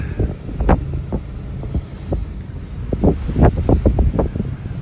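Strong gusts of wind batter a farm with loose grain bins, buffeting the microphone in irregular rumbling bursts and rushes that rise and fall throughout.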